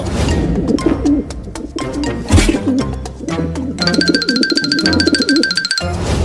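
A cartoon pigeon coos in low, throaty phrases, with a bright electronic beeping pattern cutting in partway through.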